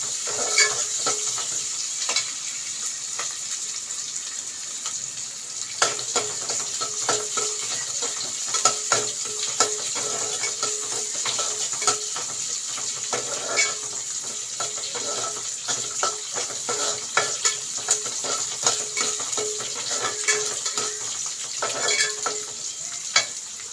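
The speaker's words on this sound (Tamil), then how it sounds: "கம்மாஞ்சோறு வெந்துக்கிட்டு இருக்கு. கிண்டி விட்டுக்கலாம்" Pearl millet rice (kammanchoru) cooking in a pot on low heat, with repeated scraping and clinking strokes of a spoon against the pot over a continuous soft bubbling sizzle, close and fairly loud, with no speech.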